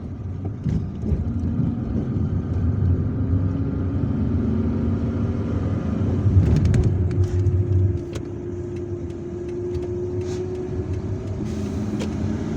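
A car drives through central Algiers on a misty day, its engine and tyre rumble held at a steady, moderately loud level, with traffic noise swelling briefly midway.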